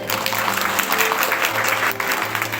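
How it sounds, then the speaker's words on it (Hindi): Congregation clapping loudly together during a Sunday worship service, a continuous rattle of many hands over a steady background hum, lasting a couple of seconds. "एक बार जोर से ताली बजाइए"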